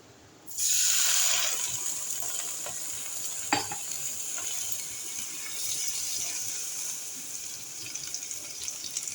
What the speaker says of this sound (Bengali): এখানে আরেকটু জল দিই।